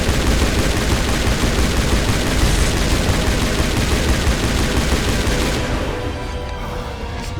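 Rapid sustained gunfire from a non-overheating Spectre-gear gun in the video game Mass Effect, a dense loud rattle of shots lasting several seconds before easing off slightly near the end.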